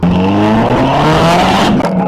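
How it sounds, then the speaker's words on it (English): A 2024 Subaru WRX fitted with new equal-length headers and a downpipe roars loudly and close, its harsh exhaust note holding steady and rising slightly in pitch over two seconds. "recently we just did our equivalent headers, which looks pretty nice and sounds even better now"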